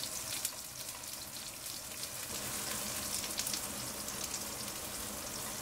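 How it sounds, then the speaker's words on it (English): Sliced shallots and green chilies fry in oil in a pot after mustard seeds for a tiger prawn coconut curry, giving a faint, steady sizzle with scattered soft crackles. "And then add the sliced shallots and green chilies into the pot and fry them for 2"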